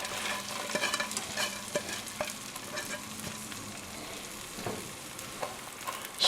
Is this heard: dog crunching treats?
no